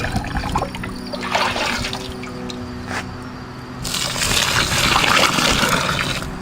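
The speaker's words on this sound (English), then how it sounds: "So I'm gonna go ahead and start getting some water out of here." Hot water trickling and splashing out of a beer brewing vessel holding grains, a close, continuous pour that swells louder toward the end.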